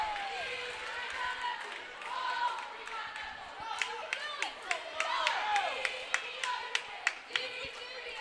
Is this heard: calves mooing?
no